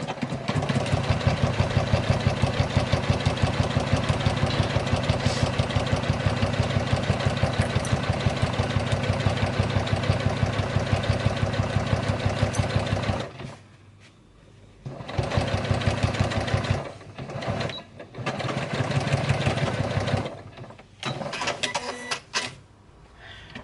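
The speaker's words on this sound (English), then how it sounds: "So using 1/4 inch seam allowance, we're just going to stitch along" A sewing machine stitching a 1/4 inch seam on a small make-up bag, a long run of steady, rapid mechanical whirring close up, then several short stop-start bursts as it reverses and finishes.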